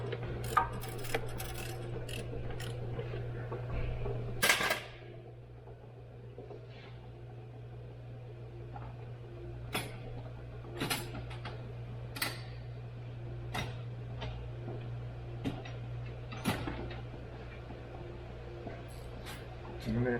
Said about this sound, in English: we're gonna loosen our alternator tensioner. We're gonna use 12 mm socket